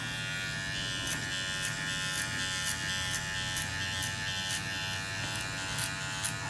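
Electric hair clippers fitted with a guard buzz steadily and close by, with faint repeated rasps as they cut through hair during a conservative haircut.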